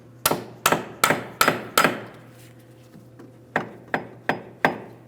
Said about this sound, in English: we'll use a hammer and punch